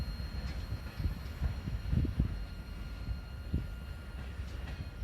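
An empty coal train rolls past near a depot, giving a steady low rumble with scattered clanks and knocks that rise and fall over several seconds, fairly distant and without voices.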